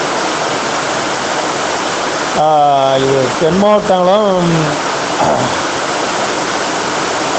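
Heavy rain pours steadily as a loud, continuous hiss across the whole stretch, with someone speaking Tamil briefly over the downpour midway.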